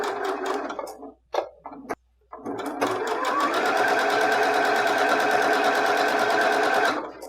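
A sewing machine stitching fabric for a scrunchie, a few short starts and stops, then a long steady rapid whirring run of stitches, close and loud.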